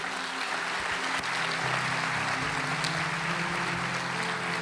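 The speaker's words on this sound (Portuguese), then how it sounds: "Então dê um aplauso bem forte ao Senhor." A church congregation applauds loudly during a worship service, a dense, steady wash of clapping that fills the whole stretch at close range, with faint low musical tones underneath.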